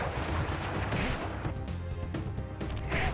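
A fiery wheel attack from the Sly Cooper video game, giving a few seconds of loud, bursting, gunfire-like blasts and crashes that come in quick pulses.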